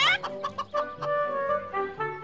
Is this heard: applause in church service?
no